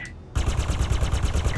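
Rapid automatic gunfire from the space game Star Citizen, a loud, dense burst of evenly spaced shots that starts abruptly after a brief electronic tone and keeps going to the end.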